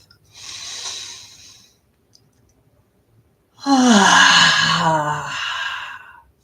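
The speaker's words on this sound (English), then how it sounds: "And another deep breath." A deep, slow breath taken during a guided meditation: a soft airy inhale, a pause, then a louder, fuller exhale with a sighing, voiced edge, close and alone.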